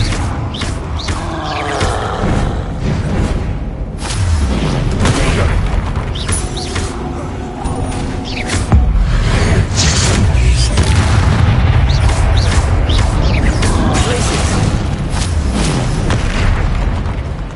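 Repeated booming blasts from Bombarda explosion spells in the video game Hogwarts Legacy, loud and dense with crackling bursts and rumbling tails over a continuous noisy backdrop, with some voices mixed in.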